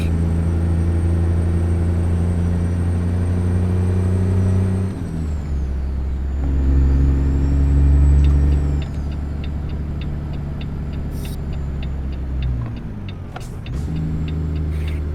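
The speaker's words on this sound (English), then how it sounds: "just so you can really hear the truck" Truck in American Truck Simulator, a loud, steady low engine drone with shifting pitch as it drives, brief hissing of air brakes, and no talking.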